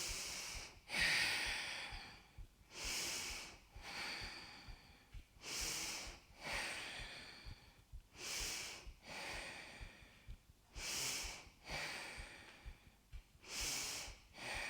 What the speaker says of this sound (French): 6 respirations profondes.